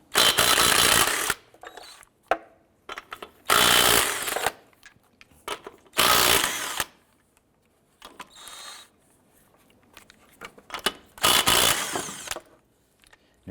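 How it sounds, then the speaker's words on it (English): An impact wrench or power tool on a 2001-2005 Honda Civic with a 19mm socket spins off the lug nuts in four loud bursts of whirring, with brief clicks and quiet gaps in between. "Using a 19mm socket, go ahead and remove the lug nuts."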